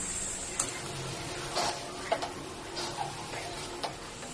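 A spoon stirs sugar into a coconut mava mixture in a pan for a coconut sweet, producing quiet scattered scrapes and light clicks against the pan at an irregular pace.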